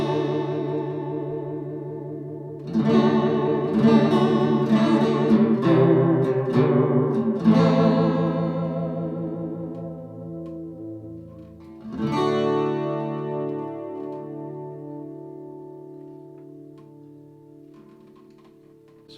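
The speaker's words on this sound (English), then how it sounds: "So a nice subtle chorus, but a little bit of modulation just to add a bit of texture to the sound." An acoustic guitar played through a pedalboard with a subtle chorus modulation effect rings out in strummed chords and a few picked notes, the shimmering tone swelling and slowly decaying between phrases, with no talking.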